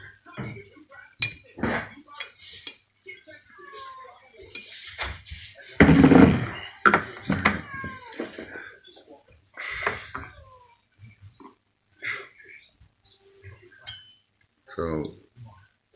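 Glasses and dishes clink while a whiskey glass is fetched, scattered sharp chinks and clatter across the clip mixed in with people talking.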